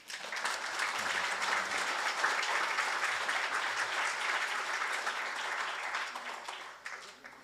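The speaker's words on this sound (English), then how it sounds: "Let's give Sean a round of applause" An audience at an evening Edmund Fitzgerald memorial ceremony gives a round of applause, a dense, even wash of clapping that holds steady for around seven seconds before thinning out at the end.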